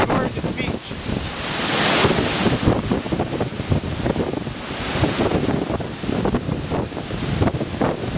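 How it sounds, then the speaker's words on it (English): Hurricane Irene drives surf over a 20-foot seawall at Linden Shores in Branford, a loud continuous roar of crashing water mixed with heavy wind buffeting the microphone. "It's about a 20-foot wall that the waves are just going over."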